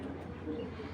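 A male military pigeon gives a brief, soft, low coo nearby, a single murmuring call heard alone.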